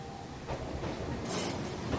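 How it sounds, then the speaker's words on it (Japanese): A train pulls into Hase Station in Japan with a soft rolling rumble and light clatter of wheels on rail, building slightly over two seconds at moderate distance with no talking. "ようやく電車が来ました。"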